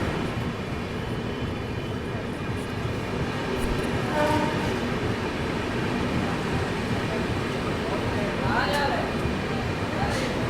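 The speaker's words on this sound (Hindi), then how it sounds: "यहाँ पर बोकारो स्टील सिटी में अपनी पुरुषोत्तम एक्सप्रेस एंटर हो चुकी है।" The Purushottam Superfast Express rolls through Bokaro Steel City station in a steady, dense rumble of wheels and carriages, with faint brief tonal horn or whistle notes rising above the noise.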